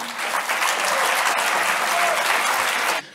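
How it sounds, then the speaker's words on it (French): Sustained applause from an audience at a student eloquence competition, dense and steady for about three seconds before cutting off abruptly. "vous pouvez encore l'applaudir"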